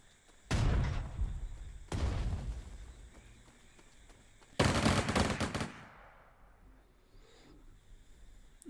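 Artillery and gunfire in the strategy game Panzer Strategy: three heavy blasts with rumbling decays, the last one a rapid burst, followed by quieter ambient sound.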